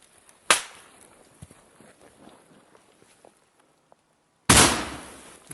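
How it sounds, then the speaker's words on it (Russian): During close trench combat, two sharp blasts ring out, one early and a heavier, longer one near the end, with faint scuffling and movement in between. "Зараз закидаю гранату тоді."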